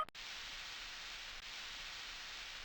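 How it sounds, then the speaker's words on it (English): A white noise machine runs steadily, a constant broadband hiss with a brief dip at the very start and otherwise unchanging, fairly faint and with no voices. "It's my white noise machine."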